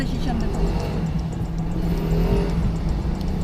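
A car inches through a narrow street in Italy, its low engine hum steady and close throughout, with a faint whir above it and no sharp revving.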